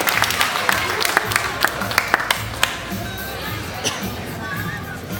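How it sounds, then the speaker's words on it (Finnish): Crowd at a chili festival in Finland claps and cheers after a countdown, with a few sharp, loud claps standing out over a noisy outdoor murmur of voices that continues once the clapping fades. "aplodit ja"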